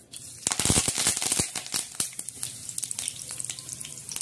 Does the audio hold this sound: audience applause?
no